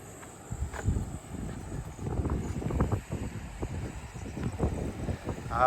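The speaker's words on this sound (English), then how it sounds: "Wind." Gusty wind on an island buffeting the microphone in uneven low rumbling bursts, fairly loud and continuous, with no talking.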